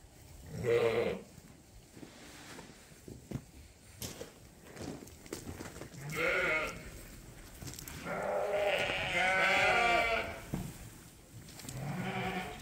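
Sheep bleat in several bursts on a farm where rams and replacement ewes wait to be fed hay, the calls fairly close with quieter stretches and faint shuffling between them.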